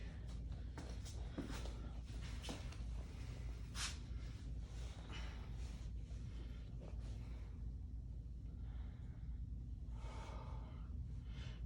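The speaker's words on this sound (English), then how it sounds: "keep focused on your breathing, guys." Heavy breathing from someone holding a deep leg stretch during an exercise session: faint, irregular breaths with occasional gasps and sighs over a quiet background, no talking.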